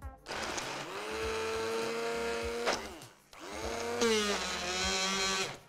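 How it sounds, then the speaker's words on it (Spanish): A mini hand blender purees a bean pâté dip finished with a drizzle of olive oil, whirring loudly in two close bursts with shifting pitch as the blade works the mixture, a short pause between them. "Y vamos a procesar todo con la mini primer."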